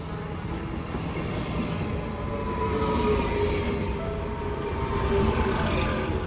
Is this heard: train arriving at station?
yes